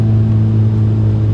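A VW MK6 GLI engine holds a loud, steady rev with a deep low drone throughout; no distinct backfire pop stands out.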